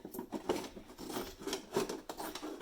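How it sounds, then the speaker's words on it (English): Several short crunching snips in an uneven rhythm, close and fairly quiet, as scissors cut through a stiff plastic jug. "Hard to cut. Grab your scissors."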